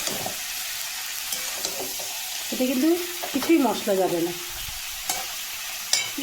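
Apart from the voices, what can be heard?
frying and stirring spices in a pan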